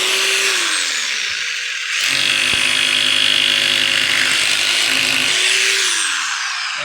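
A power drill fitted with an 8 mm bit bores into a wall on a building job: a loud, steady whine that winds up, holds under load for several seconds, then spins down, with no talk.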